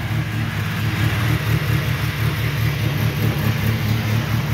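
A Honda B-series car engine with VTEC locked out runs steadily and loudly, a continuous low rumbling drone that holds at a near-constant pitch throughout with no clear climbing revs.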